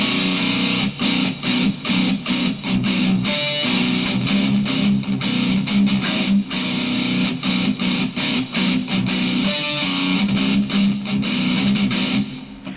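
A slow guitar riff with steady picked notes and strums, moderately loud and close, playing alone without talk.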